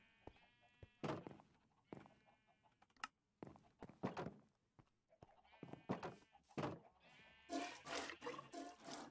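In a modded Minecraft game, a cow is milked over and over by an automated setup. Its moos and bleat-like calls repeat in an uneven string of close, loud bursts, with faint drips between them and no talking.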